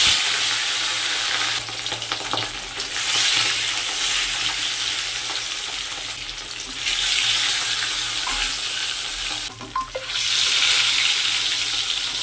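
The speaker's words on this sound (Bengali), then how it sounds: "এই মাছ যখন ছাড়া হয় কড়াইতে" Loud, steady crackling sizzle of fish frying in hot oil in a wok, with bursts of sharper spattering and no voices.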